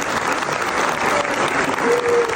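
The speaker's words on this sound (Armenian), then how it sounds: "Եկեք ծափարենք Միքայել Պողոսյանին" Steady, dense applause from an audience at an award ceremony for Mikayel Poghosyan, close and continuous throughout with a faint crowd murmur beneath it.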